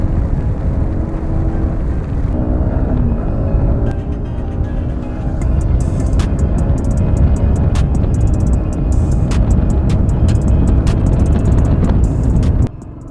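A Yamaha R15 sports bike is ridden through heavy rain on a Konkan ghat road, its engine a steady close drone with rushing wind and rain noise, ending in a sudden drop in level.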